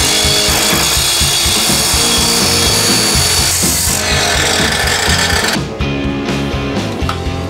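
Sawing through an old wooden hoe handle with a broken head, the cutting loud and close, steady with gritty rasping strokes over a constant tool drone for about seven seconds.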